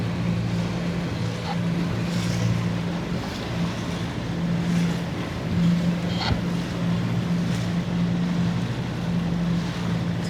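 Boats motor around a large yacht at Crab Island off Destin, Florida, on a Labor Day weekend, a close, loud, steady engine drone with wind and splashing water running throughout.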